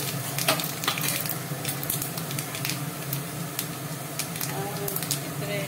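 Panch phoron spices and dried red chilies sizzling in hot oil in a pan, a steady close crackling hiss with small pops and spits throughout, heard without any talk.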